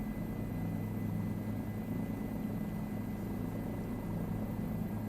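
A Bell 407 helicopter in flight in Microsoft Flight Simulator 2024 gives a steady, loud, droning rotor and engine hum that holds evenly for the whole stretch with no voices.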